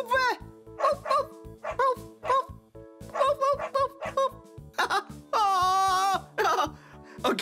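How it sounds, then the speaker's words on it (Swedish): A small toy dog gives a series of short, rhythmic yapping barks, then a longer whining howl, over a steady electronic bass beat. "det är en liten vovve."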